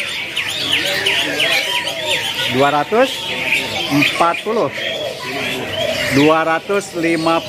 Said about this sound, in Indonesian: ini perkutut jambul